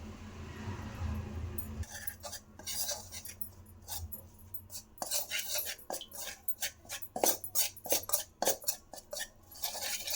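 A spoon works flour into melted butter in a pan, giving soft scraping and clinking metal-on-pan sounds at low level, irregular taps and stirs close by.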